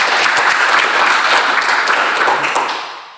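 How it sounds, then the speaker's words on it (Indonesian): A classroom audience of vocational high school students breaks into loud, dense applause that fades out at the end. "Terima kasih, tepuk tangan."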